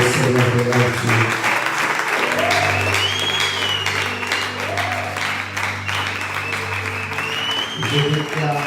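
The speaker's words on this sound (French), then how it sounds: "Est-ce que tu peux acclamer fortement le Seigneur de la vie?" A church congregation applauds and cheers loudly in praise of the Lord, the steady wash of clapping running throughout while a voice speaks and music plays underneath.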